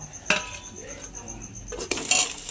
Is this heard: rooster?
no